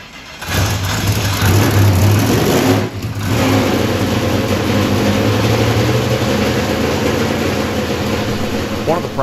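An alcohol-burning big block Chevy V8 runs on a dyno, a loud, steady, rough roar that holds high for several seconds, dips briefly, then carries on, with a voice partly heard under it.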